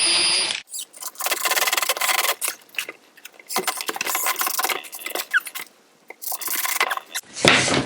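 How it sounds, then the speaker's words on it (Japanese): Cut wooden reinforcement pieces are pushed and fitted into a panel frame with scraping, rubbing contact and a few knocks, close and alone, coming in irregular bursts with short pauses. "補強の材料を切ってきたのでここに入れます"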